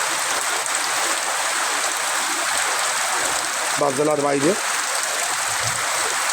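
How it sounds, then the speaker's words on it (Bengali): Heavy rain pours in Satkhira, Bangladesh, as a dense, even, continuous roar close by, while someone speaks briefly over it. "বাংলাদেশ এখন বর্তমানে সাতক্ষীরাতে ব্যাপক বৃষ্টি হচ্ছে"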